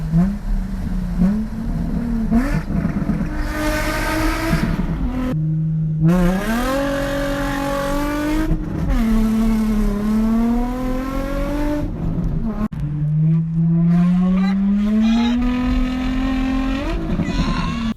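A Nissan 350Z with an aftermarket exhaust revs repeatedly at a car meet, loud and close, its pitch climbing and falling in several long rising sweeps separated by brief drops and lifts.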